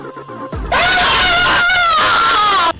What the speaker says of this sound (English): will create a highly pitched girly sound and start screaming simultaneously